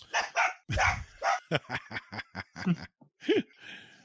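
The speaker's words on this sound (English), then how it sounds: "Little addition from the dog there, Neil." A dog barks repeatedly in short, uneven bursts, fairly close, with a few higher yips mixed in.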